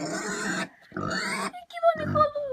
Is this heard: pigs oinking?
yes